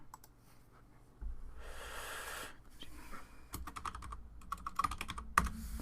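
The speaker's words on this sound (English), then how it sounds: "ignore the fact of the keyboard typing" Computer keyboard typing during a session of sorting SEGA Model 2 arcade games: bursts of sharp, close key clicks and clacks in an irregular rhythm, with a louder stretch of fuller rustling noise partway through.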